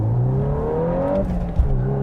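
A 2022 Volkswagen Golf R with a six-speed manual, launched hard by the driver, gives a loud steady engine drone that rises in pitch, with a brief shift thump near the end, heard from inside the car.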